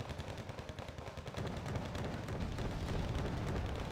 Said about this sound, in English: the Ka-50 Akula wasting missiles on these M41A1s.